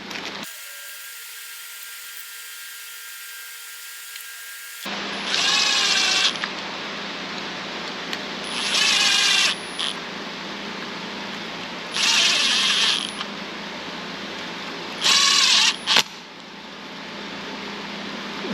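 A power tool set low runs in the cam retainer plate bolts on a junkyard LS engine in a 92 Firebird, whirring in four short bursts of a couple of seconds each over steady garage background noise.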